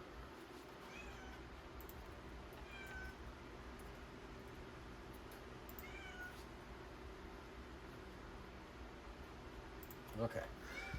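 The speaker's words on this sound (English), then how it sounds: "Big old ferocious cat here" A big cat meows a few times, short mewing calls scattered over a low background hum, with a louder cry near the end; faint indoor noise underneath.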